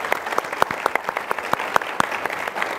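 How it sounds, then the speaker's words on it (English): An audience at a smart cities conference in Miami applauds, a steady, dense patter of clapping with sharp individual claps standing out throughout, close and fairly loud, with no voices over it. "So big round of applause for you."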